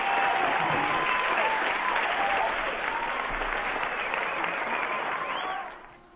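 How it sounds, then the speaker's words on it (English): Broad wash of audience applause during a live 2 p.m. Pacific broadcast, sustained and fairly distant, holding steady before fading out near the end. "we finally got applause"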